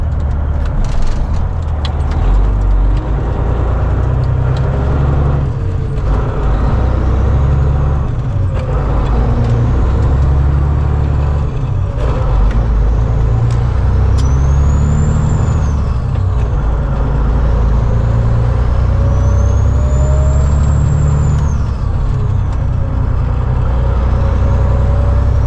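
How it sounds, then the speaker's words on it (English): Semi truck hauling about 80,000 pounds, engine droning low and steady from the cab while driving, with a turbo whistle rising and falling in pitch at several points over continuous road rumble and an occasional air hiss. "I love the sound of that engine."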